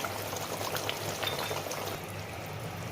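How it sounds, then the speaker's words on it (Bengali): Raw mustard oil poured over a hilsa fish curry in a pan: a soft, steady liquid pour with faint sizzling and bubbling, close and continuous, with no talk. "উপর থেকে একটু কাঁচা সর্ষে তেল দিচ্ছি"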